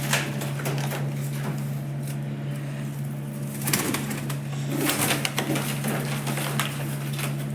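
Pigeons coo softly over a steady low hum, with a few brief flutters and rustles nearby.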